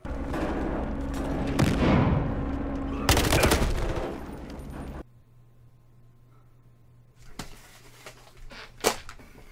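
Gunfire in the Battlefield Hardline video game: rapid bursts of automatic shots and loud cracks, then a quieter stretch with a few scattered sharp shots.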